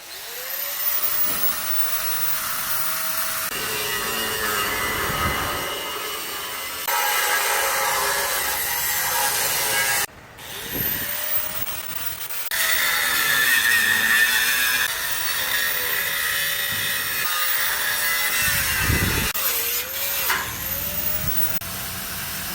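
An angle grinder removing metal on a trailer build, whining loudly and continuously with shifts in pitch and pressure as it bites the steel, briefly stopping and restarting partway through, close by.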